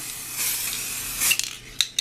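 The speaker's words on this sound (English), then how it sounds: "Use this time to rattle your can." A spray paint can being shaken before spraying in a hydrographics dipping project, its rattle coming as a few sharp metallic clinks over a steady hiss.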